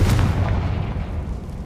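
In the Hogwarts Legacy video game, a Confringo fire spell erupts in a single loud, close blast with a heavy low boom that fades out over about a second.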